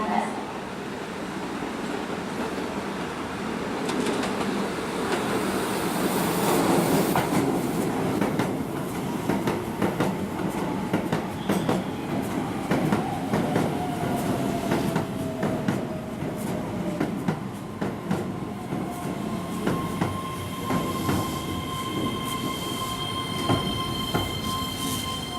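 A Keihan electric train pulls into the platform at Hirakata-shi station during the evening rush, with a loud, steady rumble of wheels and a thin rising squeal that grows toward the end. No voices.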